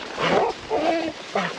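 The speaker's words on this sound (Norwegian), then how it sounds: "Hundene er ivrige til å bevege på seg." Eager dogs on a riverside hike in the northern mountains give three short, close whimpering yips in quick succession, loud and alone.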